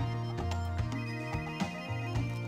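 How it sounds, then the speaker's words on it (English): A phone notification chime from the video game Tokyo Afterschool Summoners: a bright, stepped electronic melody of short tones that plays clearly for a couple of seconds with no talking. "I'm getting an announcement notification on my phone."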